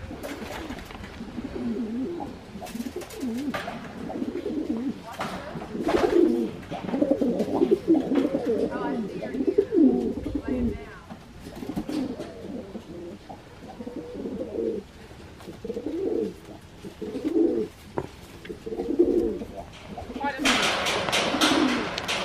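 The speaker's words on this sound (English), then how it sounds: "Doves." Doves cooing in a zoo enclosure at a wildlife preserve, soft repeated low coos overlapping with ambient noise and nearby talking, with a burst of broadband noise near the end.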